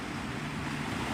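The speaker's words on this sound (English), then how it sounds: "I hope you guys can still hear the ocean over the music." Steady broadband wash of ocean surf rolling onto the sand at Navarre Beach, Florida at sunrise, a continuous near rumble with no talk.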